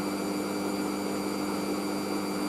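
A Hoover AAA Whisper 1600 washing machine in an intermediate spin burst on a 50ºC speed wash, a steady motor whine and drum hum that holds constant throughout.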